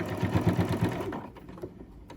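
A sewing machine runs a zigzag stitch across elastic, a quick rhythmic mechanical chatter that is steady and close before it slows and fades into quieter handling noise.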